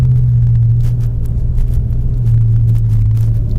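A 700hp BMW M5 idles and rumbles with its exhaust flaps open, a deep steady engine drone close by with faint crackles on top, no voices, on a snowy Canadian road.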